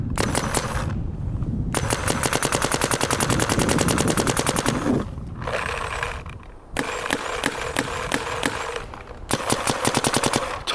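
Paintball markers, a MacDev GTX and a Planet Eclipse, firing in rapid bursts of sharp popping shots, loud and close, several strings of fast fire separated by short pauses.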